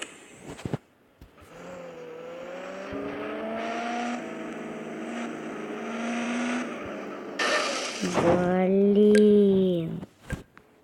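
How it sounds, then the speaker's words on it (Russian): A car in a driving-school video game starts up and drives off, with a rising, steady engine drone, a gear change and then a higher revving whine near the end. The engine is loud and continuous, and short electronic game sounds come before it. "Заводим машину."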